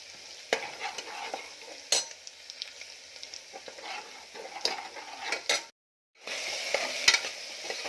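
Sprouted field beans are dry-roasted in a pan, with a soft steady sizzle broken by sharp scraping stirs at irregular intervals and a brief silence near the end.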